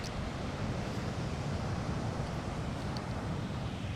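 Ocean surf rolls onto the beach at Point Reyes, California, a steady, broad wash of waves with wind noise, continuous and fairly faint, no voices.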